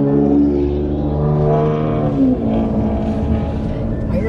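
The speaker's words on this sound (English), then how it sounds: "Why your car sound like a motorcycle?" A loud car with a motorcycle-like exhaust note, heard at a street or parking lot near a Wingstop, drones steadily and close by for the whole stretch, with a slight rise in pitch partway through.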